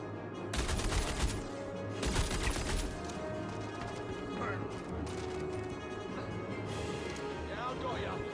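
Gunfire in the video game Star Citizen, with several loud broadband bursts of shots clustered in short volleys, separated by stretches of steady game ambience and faint background voice.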